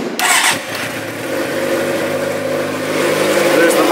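A 2008 Suzuki GSX-R600 sport motorcycle cranks briefly and catches, then settles into a steady, close, loud idle with a buzzy mid-range engine tone.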